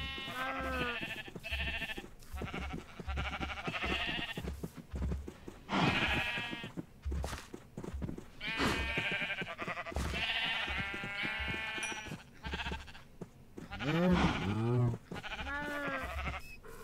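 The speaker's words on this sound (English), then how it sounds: "I just heard a donkey" A video-game donkey brays in repeated, wavering harmonic calls that rise and fall, spread across the stretch and clearest near the end, with game sounds between them.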